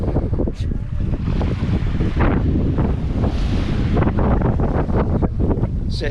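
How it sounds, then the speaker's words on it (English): Strong wind at a beach beside a harbour and river mouth buffets the microphone in a loud, constant roar, with surf washing faintly beneath it and no clear voices. "But it's a little bit windy."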